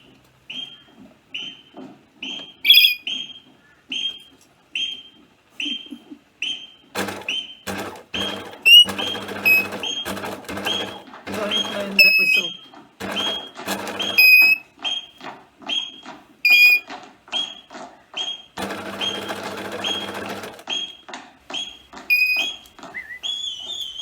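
Sharp, repeated whistle blasts in a quick rhythmic pattern, alternating with bursts of louder music and noise, fairly close and loud, from The Sound of Music film soundtrack.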